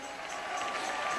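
Congregation applause in a church worship service, a dense, steady wash of clapping from many people that fills the space, with crowd noise mixed in and no clear pauses.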